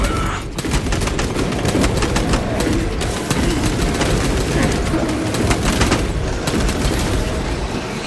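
Bolter fire in Space Marine 2 combat, a dense and loud barrage of rapid shots and booms running without pause throughout.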